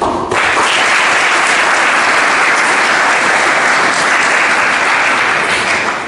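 An audience applauds young researchers at an innovation and invention awareness event at a school, with loud, dense clapping that starts abruptly and holds steady for about six seconds.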